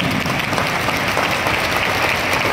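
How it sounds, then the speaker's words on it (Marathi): Loud, dense audience applause at a college annual prize-distribution ceremony, a continuous wash of clapping from a large crowd for several seconds. "जोरदार टाळ्या तुमच्यासाठी"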